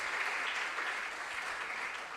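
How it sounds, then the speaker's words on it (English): Steady applause for contestants at a regional junior science and maths quiz, a dense, even wash of clapping from a room full of people, moderately loud throughout. "A round of applause for all our contestants."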